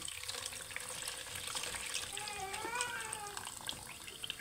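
Lemon juice mixed with mint is poured through a strainer, a steady soft trickle of liquid running close by, faint and continuous, with a brief squeaky tone partway through.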